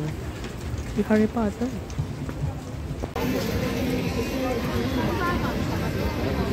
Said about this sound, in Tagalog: inabutan kami ng malakas na ulan pero tuloy pa rin